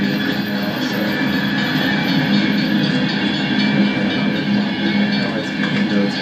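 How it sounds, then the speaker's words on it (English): A freight train rolls past in the open, a loud continuous rumble of wheels and rattling cars with clanking and faint squeals. "There is a freight train blocking my path to the downtown area right now"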